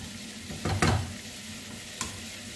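Garlic frying with bacon in a hot pan gives a steady close sizzle, with a stirring scrape and a couple of brief clatters partway through and no talking.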